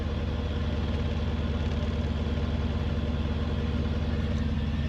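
A carbureted Ford F100 truck engine idles in park at a slightly raised speed, a steady, even low rumble recorded close with no talking.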